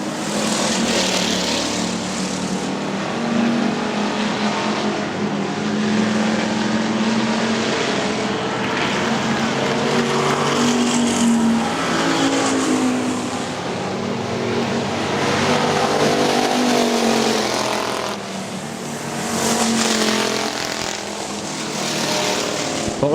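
Factory stock race cars on the oval at Hartford Speedway Park, a pack of engines roaring loudly and continuously as they come out of turn four, the drone swelling and fading as cars pass.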